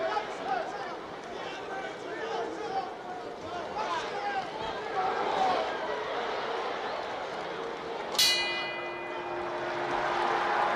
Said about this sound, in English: There's the bell and the end of round 6.